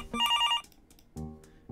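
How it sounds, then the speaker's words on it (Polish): A telephone rings in a video game, giving one short burst of repeated electronic bell trills followed by a quieter gap and a low tonal sound, with no talking. "Obudził mnie niesamowicie irytujący dźwięk dzwoniącego telefonu."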